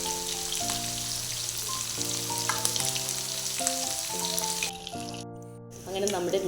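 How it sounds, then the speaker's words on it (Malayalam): About two kilos of murrel fish frying with chili powder and salt for pickle give off a steady sizzling hiss beneath background music with sustained tones, and it briefly drops out near the end. "ഇതെല്ലാം ഇട്ടിട്ട് നമുക്കൊന്ന് പൊരിച്ച്"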